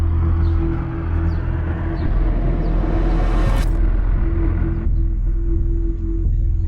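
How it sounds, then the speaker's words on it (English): Electric tuk-tuk taxi rolling through the streets of Santa Clara, Cuba, after a heavy rainstorm, a steady close road rumble and low hum that stays even throughout, with no voices. "One way of getting around Santa Clara is on an electric tuk-tuk taxi."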